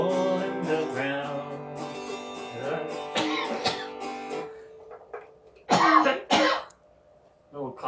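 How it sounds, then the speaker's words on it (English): A person coughs in several harsh bursts after sustained background music at a live folk concert, the coughs clustered near the end, close and loud. "Little coughing spell."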